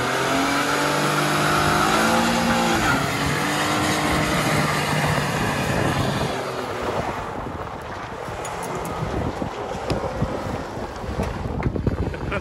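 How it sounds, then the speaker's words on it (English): A Cadillac CTS doing a burnout at a mudding session: a loud, continuous roar of the revving engine and spinning tires, close and sustained, growing rougher and more broken near the end, with no talk. "All right, let's see a burnout."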